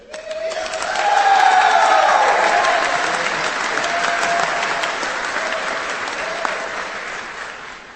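Sustained applause from a commencement audience at a spring 2025 Washburn Tech graduation, greeting an EMT certificate student speaker; dense, steady clapping swells after a second and holds for about eight seconds, fading slightly toward the end.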